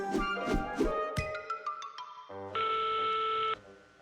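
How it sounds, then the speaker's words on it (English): A cartoon telephone in The Fixies: a few bright melodic tones and short beeps, then a steady electronic ring tone held for about a second before cutting off. "Oh, they answered the phone."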